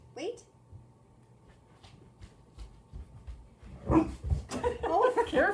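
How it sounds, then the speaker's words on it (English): An excited dog bursts into barks and whimpering yips near the end, after a quieter stretch, while people talk nearby. "for some reason, the dog got really excited when I came running in"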